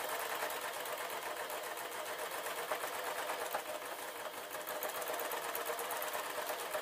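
A sewing machine stitches an off-the-shoulder dress, running in a steady, fast, even mechanical chatter throughout, close and with no one speaking.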